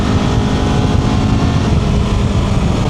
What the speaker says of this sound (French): Le moteur il a une allonge.